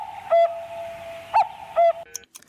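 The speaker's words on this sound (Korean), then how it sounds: "뻐꾸기 소리 주세요." A cuckoo call sound effect is played on a radio talk show: three tonal two-note hoots stand out clearly over a faint, steady hum.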